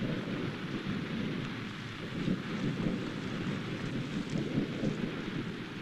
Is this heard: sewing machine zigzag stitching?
no